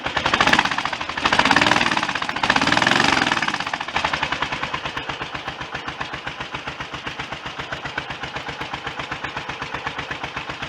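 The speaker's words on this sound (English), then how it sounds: "this is it running on the left cylinder at 1000 RPM" Triumph Trident motorcycle engine ticking over on its left cylinder alone at about 1000 RPM, a steady, evenly spaced loud putter that follows a louder revving stretch in the first few seconds.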